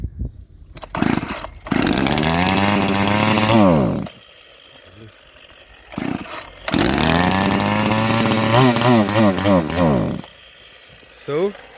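A Poulan Pro chainsaw whose carburetor has just been cleaned fires up in two loud, close bursts of revving, each rising and wavering before cutting out, with short quiet gaps between.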